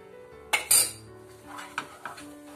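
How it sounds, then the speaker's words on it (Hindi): A spoon scrapes and clinks against a pan while stirring milk powder barfi batter with cardamom powder, giving a few sharp metallic knocks followed by softer intermittent scraping. "बस थोड़ा सा और हिलाएंगे इसको।"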